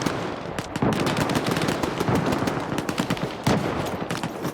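Rapid automatic gunfire crackles in dense, uneven bursts during an assault in S.T.A.L.K.E.R. 2, loud and close with several weapons overlapping and barely a pause, no voices.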